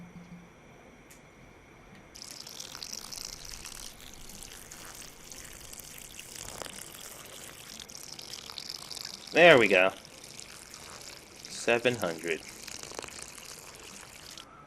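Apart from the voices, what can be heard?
pouring water in the video game Cooking Simulator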